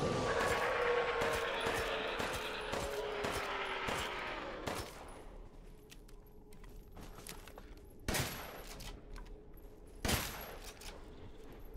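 Gunfire from the Azume RR4 in Resident Evil Village: a few loud, sharp shots spaced several seconds apart, each ringing out after a noisier, busier stretch of game sound.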